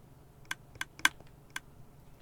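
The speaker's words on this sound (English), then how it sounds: "this dropper noise is a little annoying, but it only is within 16 blocks." A dropper block in a video game clicks five times in a sparse, uneven rhythm. The short sharp ticks stand out over a faint background with no speech.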